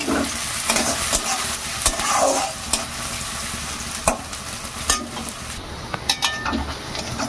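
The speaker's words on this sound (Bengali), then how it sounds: "এখানে আছে রসুন ছেঁচা মরিচ কাটা আর পেঁয়াজ কুচি করা আমি সব দিয়ে দিলাম একটু ভেজে নেবো ভালো করে" Crushed garlic, cut chilies and chopped onion fry in mustard oil with a loud sizzle, while a utensil scrapes and clinks against the pan in irregular stirring strokes.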